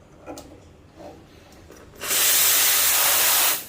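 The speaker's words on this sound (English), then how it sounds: "The steam is very dry." A VBM Domobar Junior heat-exchanger espresso machine purges its steam wand: after a few soft clicks and rustles, a loud, dry, steady hiss bursts on close by and runs for about a second and a half before cutting off.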